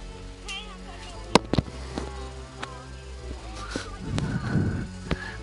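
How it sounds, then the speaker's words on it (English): Firecrackers going off outdoors, several sharp sudden bangs spread irregularly through the clip with a faint crackle, heard at a distance beneath a quiet voice in the room. "outside shooting firecrackers"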